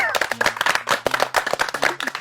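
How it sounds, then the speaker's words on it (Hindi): Several people clap together in a quick, uneven burst of applause, close and lively, with a voice mixed in. "तो भाइयों ठोको ताली।"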